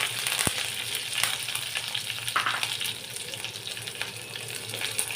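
Curry leaves crackle and sizzle in hot oil with popped mustard seeds for egg burji, a dense bright hiss with a sharp spatter at the start and occasional louder pops.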